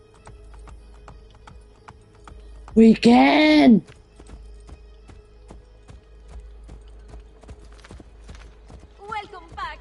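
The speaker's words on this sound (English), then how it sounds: "Can we ride the horse in now?" Horse hooves clip-clop steadily in Assassin's Creed Brotherhood as Ezio rides in, a regular rhythm of soft thuds under a loud shouted voice and game music.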